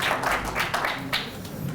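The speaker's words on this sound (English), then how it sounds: "Can we clap for Dr. Turner, please?" Scattered applause from a modest audience at a sustainability presentation, a few distinct claps standing out over a soft, fairly faint patter that stays even for a short stretch.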